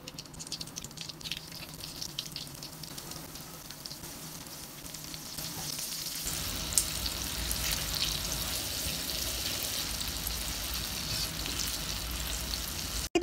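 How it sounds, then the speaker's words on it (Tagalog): Chicken popcorn pieces fry in hot oil with a steady, close sizzle that grows fuller and louder partway through and then holds a dense crackling hiss, with no voices. "Nakaredy na nga po pala dito yung aking mainit na mantika kaya naman mag-start ako magprito."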